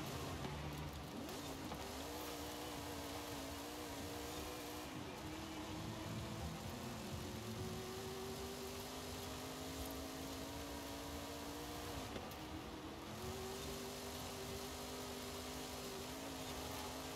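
A Procharger-supercharged car engine runs loud and continuous for the whole stretch, its pitch holding steady and then climbing gradually as it revs. The note stays fairly low, with no talking over it.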